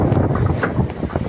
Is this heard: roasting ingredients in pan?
no